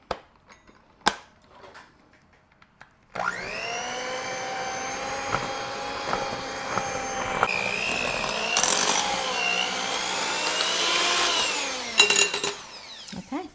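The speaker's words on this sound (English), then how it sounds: "And now we're just going to blend it up." An electric blender whirs steadily as it mixes two eggs, a box of chocolate fudge cake mix and a stick of melted butter, its motor droning and shifting pitch for about ten seconds after a few clicks and knocks.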